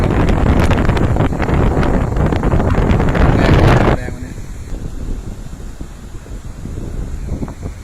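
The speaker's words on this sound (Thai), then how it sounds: "ลมแรงมากครับดู" Strong wind at Bang Saen beach batters the microphone with loud roaring gusts that ease halfway through, leaving softer wind rumble and distant seaside sound.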